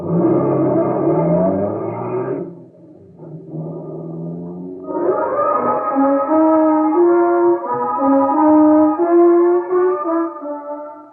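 A car engine drones steadily up close, dips briefly to a low idle, then revs and pulls away in rising gear-like steps as the car drives into a park; no talking.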